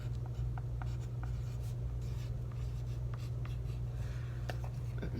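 Pencil writing on paper up close, faint scratchy strokes in short irregular bursts over a steady low background hum, with no talking.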